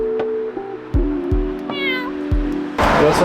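A cat in a Lithuanian city meows several times in short, fairly close calls over a low steady background hum, with a burst of broadband noise at the end.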